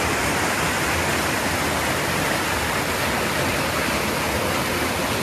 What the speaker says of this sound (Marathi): मित्रांनो, पूर्ण डोंगरात ना वॉटरफॉल आलेला आहे